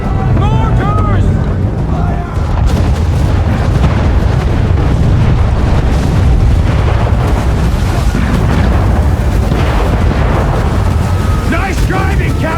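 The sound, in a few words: mortar explosions in Assassin's Creed 3 naval battle, video game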